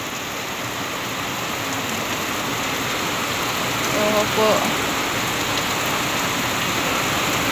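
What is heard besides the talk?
heavy typhoon rain pouring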